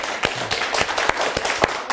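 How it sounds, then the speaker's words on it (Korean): A church congregation breaks into applause, a close, busy patter of individual hand claps with sharp, uneven beats throughout. "우리 박수 한번 쳐드리죠"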